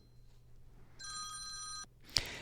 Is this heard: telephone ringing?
yes